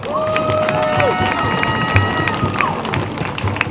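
A high school football crowd in Wyoming cheers and applauds a senior cheerleader, a thick continuous roar of clapping and shouting with scattered whoops rising above the wash.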